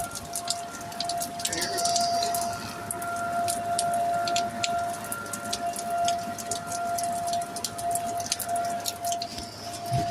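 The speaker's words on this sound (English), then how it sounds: "Guys, the tornado sirens are going off." Tornado sirens wail steadily in the distance with a sustained tone, under rain pattering on surfaces throughout, with scattered drops and no talking.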